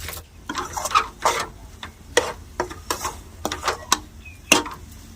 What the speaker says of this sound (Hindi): और अब इस तरह से चला के सोयाबीन की बड़ी और मसाले के साथ आलू को भी मसाले में फ्राई कर लेते हैं।